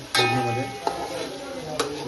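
Marinated crab hitting hot tempering for a home-cooked crab biryani, giving a steady sizzle broken by a few sharp metallic clinks of stirring, with a voice talking over it.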